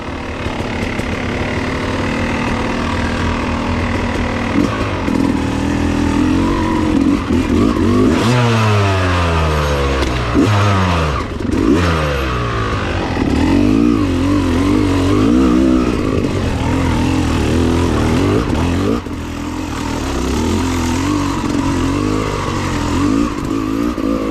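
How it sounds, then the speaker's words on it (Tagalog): Motorcycle engine running and riding past at a Red Bull Bakahan event, a loud continuous drone that swells with a rising and falling pitch sweep as it passes close by, amid a busy crowd background. "Uy, may motor pa nakakapasok oh."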